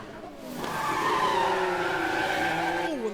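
A race car skids into a crash against the barrier, heard as a loud sustained tire squeal with a strained engine note that drops in pitch near the end, with no voices over it.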